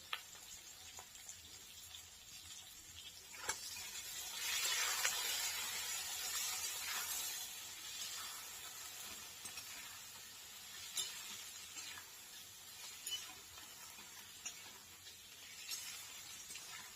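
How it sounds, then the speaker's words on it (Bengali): Onions and green peas sizzle gently in a pan after fried potatoes for a fish curry. The frying is soft and continuous, with a few small stirring clicks and a slight swell early on. "এবারে পেঁয়াজ আর মটরশুঁটি একই সাথে দিয়ে দেব, ওগুলোও একটু একটু করে ভেজে নেব।"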